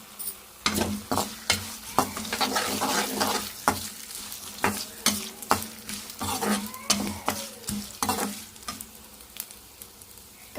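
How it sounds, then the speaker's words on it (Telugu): Turmeric is stirred into a sizzling tempering in a pan, with a steady frying hiss broken by repeated rhythmic scrapes and knocks of a spoon against the metal, close and clear. "పసుపు వేసుకొని కలిపి వేసుకున్నాం"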